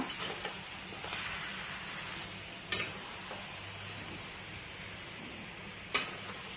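Homemade desi chicken being sautéed in a pan: a quiet, continuous sizzle with a few soft stirring sounds and two sharp utensil taps against the pan.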